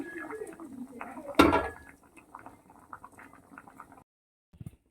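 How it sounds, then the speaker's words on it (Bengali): A pot of boiled potatoes bubbles softly, then a loud metallic clank of the pot being handled cuts in. Lighter rattles and taps follow before the sound drops to near silence with a brief clink at the end. "আলু একদম সিদ্ধ হয়ে গেছে আমি নামিয়ে নিচ্ছি"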